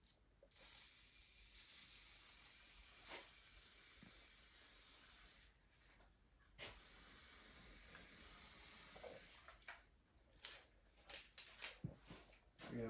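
An Amaco Sprayz sprayer hisses in long, even spray bursts, with a brief pause partway and then shorter broken puffs toward the end, close but low in level.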